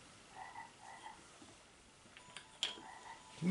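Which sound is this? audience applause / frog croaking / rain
frog croaking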